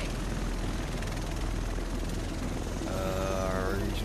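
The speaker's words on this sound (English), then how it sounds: "That's a big aircraft. The rest of us should be in this chopper." A helicopter in The Division arrives with a continuous rotor and engine roar that grows stronger near the end, holding under broad in-game background noise.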